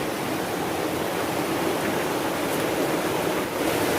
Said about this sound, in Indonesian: masih di aliran sungai